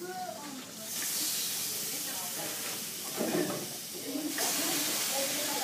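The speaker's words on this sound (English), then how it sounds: "ready to listen for the sizzle" Chicken breasts sizzle on a preheated George Foreman contact grill, a steady loud hiss that swells and holds throughout with no talking over it.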